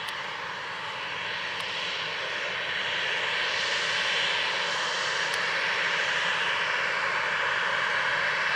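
Corendon airliner, registration TC-TJN, at Groningen Airport Eelde during a takeoff roll that is later rejected: a loud, steady engine roar that swells gradually and holds a broad, continuous rush with no talk.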